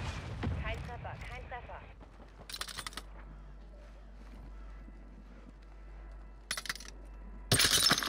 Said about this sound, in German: Ich glaube, die so weit da hinten schießen.